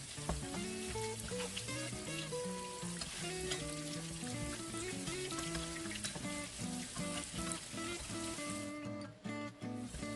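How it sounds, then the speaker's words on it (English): Shrimp frying in oil while being stirred, giving a continuous crackling sizzle with scraping stir noises. It runs steadily throughout and is briefly interrupted near the end, with no talking. "And to get the crunchy coating, I normally keep stirring it while frying."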